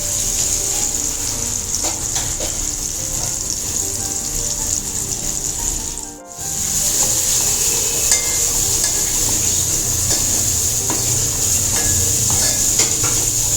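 Turmeric and Malvani masala being stirred into clams in a pan over steady frying sizzle, with soft scraping and clinks of the spoon running continuously apart from one brief dip.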